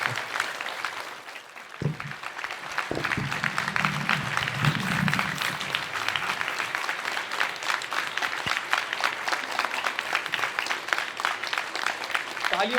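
Loud, sustained audience applause at a literature festival in India, beginning with a few scattered claps and swelling into dense, continuous clapping from a large crowd, with a brief voice audible early on.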